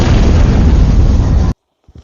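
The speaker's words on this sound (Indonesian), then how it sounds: "Warga pun melepas api di bekas tumpahan minyak itu, hingga membuat mobil itu terbakar dan meledak." An oil tanker truck explodes in a film scene, a loud, dense roaring blast lasting about a second and a half before cutting to near silence with a couple of faint knocks.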